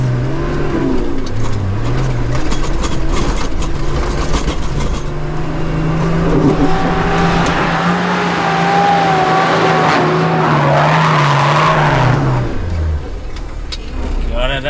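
Nissan GQ Patrol 4WD driven hard in fourth gear with both lockers in, a loud, sustained engine roar rising and falling in pitch, close up inside the cab with voices over it.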